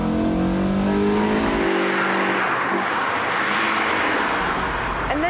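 A Honda sports car engine with VTEC screams past 6,000 RPM, a loud, sustained high-pitched rev with rising harmonics that flattens into a steady roar, heard close and alone.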